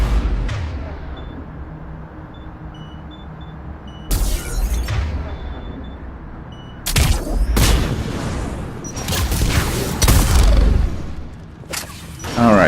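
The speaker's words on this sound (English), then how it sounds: "I'm killing things. I'm causing explosions." Explosions and gunfire from the Mass Effect 3 video game, heavy booms and rattling shots arriving in loud bursts with quieter rumbling gaps between them and no speech.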